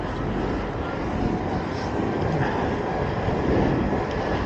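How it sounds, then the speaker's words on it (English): A train passes through a market town, a broad continuous rumble and roar that stays steady and fairly loud throughout, heard from nearby with no talk. "There's a train."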